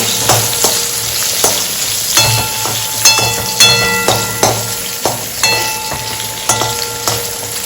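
Food fries in a pan on a home stove, a steady close sizzle broken by sharp metallic clinks and scrapes of stirring at an irregular pace, with no voices.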